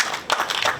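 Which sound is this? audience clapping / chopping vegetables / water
audience clapping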